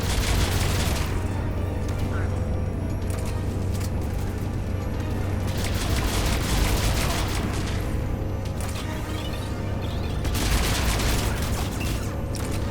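Grenade blasts and rapid gunfire from mercenaries in a Mass Effect 3 firefight, a dense continuous barrage of booms and shots with sharp bursts throughout and no clear pauses.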